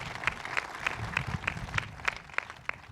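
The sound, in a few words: audience applause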